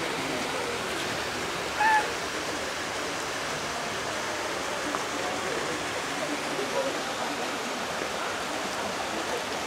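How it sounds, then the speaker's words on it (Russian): Water rushes steadily in a constant broad roar, like a nearby waterfall, with a brief faint tone and a few soft sounds over it. "Мы преодолели водопад."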